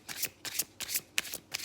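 Tarot cards get a vigorous hard shuffle, close and crisp: four or five quick riffling bursts in a steady rhythm, with no talking over them.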